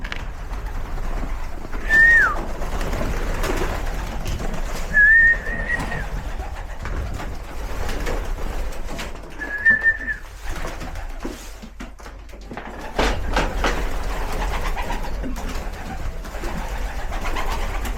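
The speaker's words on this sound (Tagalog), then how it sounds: "Yan, yung mga kalapati ko." Pigeons coo three times in short, separate calls against steady outdoor background noise on a snowy day in Canada, with long quiet gaps between the calls.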